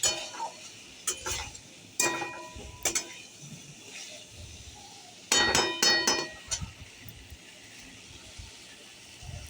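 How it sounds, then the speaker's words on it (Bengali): A metal spoon clinks and scrapes against a pan while stirring potatoes and soybean chunks with spices, giving irregular close ringing clinks over a low background sizzle. "আলুগুলো দিয়ে আরও ভালো করে আমি নাড়াচাড়া করে নেব।"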